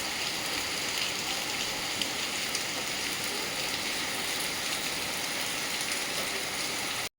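Heavy rain pours down in the Konkan during the Ganesh festival, a loud, even, unbroken roar of water hammering surfaces close by.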